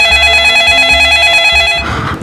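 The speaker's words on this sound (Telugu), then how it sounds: "అబ్బా ఈ కార్తీక్ గాడు ఎన్నిసార్లు ఫోన్ చేస్తాడు?" A telephone rings loudly and close by, with a regular pulsing pattern of repeated rings that cuts off shortly before the end.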